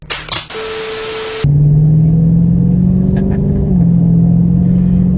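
Dodge Charger Scat Pack engine droning loud and steady while driving, the pitch rising slowly with a brief dip, after a short burst of noise at the start.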